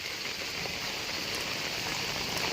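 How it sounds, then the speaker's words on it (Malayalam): Heavy monsoon rain falls over flooded fields in Kozhikode, a thick, unbroken roar of downpour with occasional closer drops and no one speaking. "ഇപ്രാവശ്യം തമർത്ത് പെയ്യാണ് മക്കളെ മഴ"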